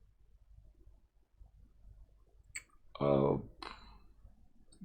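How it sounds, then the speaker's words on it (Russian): A single keyboard key press for the letter A in Fusion 360, a short sharp click in a quiet room, followed by a brief spoken word. "Теперь нажимаю на клавиатуре буковку А английскую."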